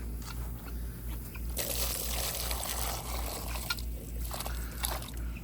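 Water pours steadily into an animal waterer for several seconds with a splashing, trickling rush, joined by faint clinks and low outdoor rumble.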